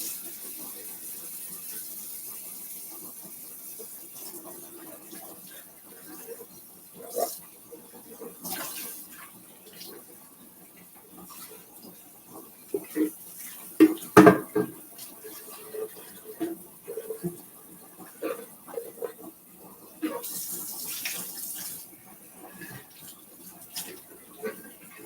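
Tap water runs into a sink as juicer pulp is rinsed out, a soft steady flow with scattered knocks and clatters of plastic parts, louder in the middle.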